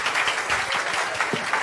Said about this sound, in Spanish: Aplauso para nuestras expositoras